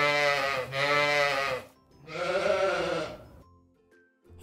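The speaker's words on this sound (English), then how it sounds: "Let's hear the sheep baa." Sheep from a mixed flock of white, black and brown animals bleat in two long, loud, wavering baas close by, followed by a brief quieter pause and faint sounds.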